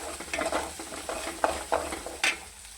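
Onions frying in a pan for a stuffed potato and capsicum vegetable dish, a steady soft sizzle broken by several stirring scrapes of a spoon against the pan, close and alone.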